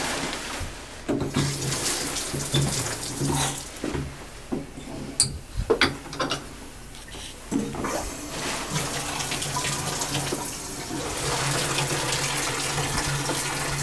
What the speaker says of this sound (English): If you turn on the water like this, be so.